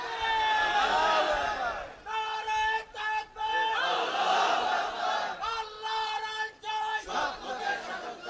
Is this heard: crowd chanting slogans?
yes